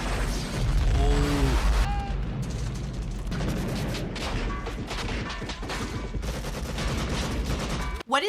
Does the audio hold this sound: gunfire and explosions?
yes